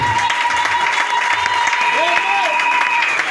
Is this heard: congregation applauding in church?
yes